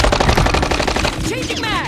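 Rapid automatic gunfire in Call of Duty Modern Warfare III, a dense run of close, loud shots followed by scattered ricochet-like whines and lighter shots near the end.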